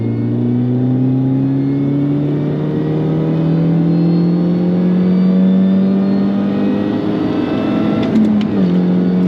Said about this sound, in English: Alright, let's do a little third gear pull. Back down to third. Revs are at 3k. Let's give it some.